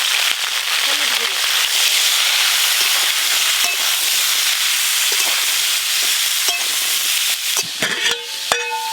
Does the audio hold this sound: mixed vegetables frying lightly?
yes